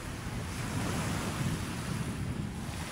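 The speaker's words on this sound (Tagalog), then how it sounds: "Kasi yung ating tubig ay gumagalaw" Waves move along the shore at Manila Bay's Dolomite Beach, heard as a steady, moderately loud wash of water mixed with wind noise, with no voices.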